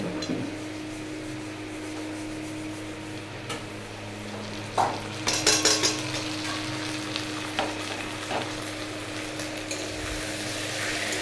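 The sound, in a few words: frying onions with ground spices in pan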